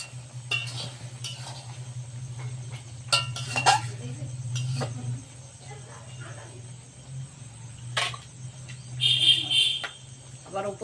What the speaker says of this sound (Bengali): মশলা দিয়ে আবার নাড়তে থাকছি এইভাবে।